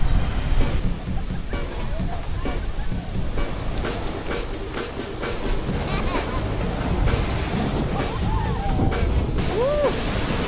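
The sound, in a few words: ocean waves surf at beach in Nha Trang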